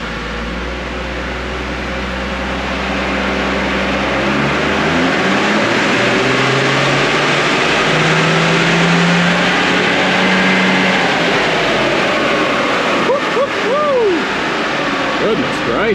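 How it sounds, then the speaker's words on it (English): A big Toyota Landcruiser diesel engine revs up steadily on a dyno, its pitch climbing over several seconds into a loud sustained roar, then easing off, with a voice heard near the end. "I still love me the sound of this big old diesel"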